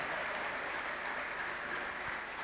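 A church congregation claps during a sermon, a dense, even wash of applause that holds steady throughout; any ululation is not distinct within the clapping.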